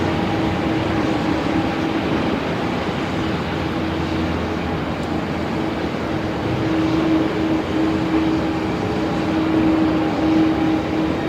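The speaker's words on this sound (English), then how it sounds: "Qantas 434 Heavy, just cleared for takeoff already" Qantas 434 Heavy jet on takeoff from runway 34 at Melbourne Airport, a steady distant roar of jet engines with a faint whine, heard from afar outdoors without talk, holding even in loudness throughout.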